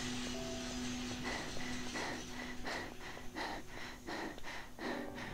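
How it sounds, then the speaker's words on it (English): A character in the video game Dead Island pants after a run. Rhythmic breathy gasps come every half second or so, fairly faint, over a steady low hum of game background sound. "Alright, stop the panting."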